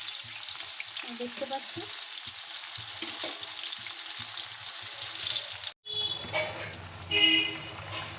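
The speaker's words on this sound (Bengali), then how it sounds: "উল্টে পাল্টে ভালোভাবে ভেজে নেব যেন দুই পাশে সমানভাবে ভাজা হয়।" Pumpkin slices frying in oil in a pan make a steady close sizzle with light turning clatter, and a brief cut leads into a louder, brighter stretch of frying while a voice speaks briefly.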